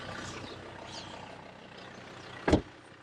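A Volvo D5 diesel engine runs steadily at a low, even idle, with a single sharp loud knock or clunk partway through.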